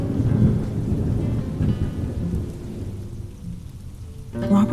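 Thunder rolls low and heavy through steady rain, the rumble swelling and fading over a few seconds before a fresh burst at the end.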